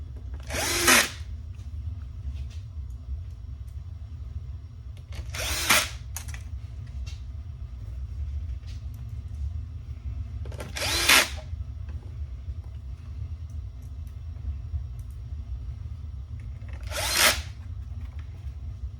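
A power drill drives screws back into the board of a Rane One DJ controller during a fader repair. Four short, sharp whirring bursts sound several seconds apart over a low steady background hum, each one close and brief.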